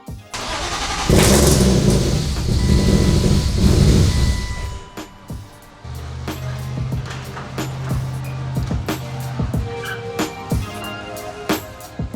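A rebuilt BMW E36 M3 engine cranks and catches with a loud burst of revs, then drops to a lumpy idle, with clicks and clatter from work around the car close by.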